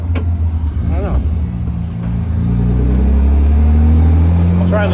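A BMW E36 drift car engine idling and revving after a misfire, a deep, loud, slightly uneven rumble that swells in the second half, with someone talking over it at times.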